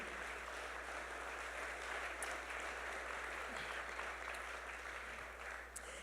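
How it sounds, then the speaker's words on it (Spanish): Church congregation applauding at a retreat in New York City, a faint, steady wash of clapping with a few sharper claps standing out. "Dele un aplauso para el Señor un momentito."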